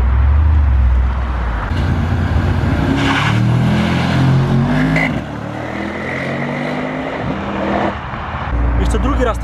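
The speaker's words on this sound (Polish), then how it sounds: "będę mógł wam pokazać przyspieszenie od zera" A Brabus S800 pulls away from a standstill on a wet road, its engine surging loudly with rising revs and gear changes heard from inside the car, with someone talking over it.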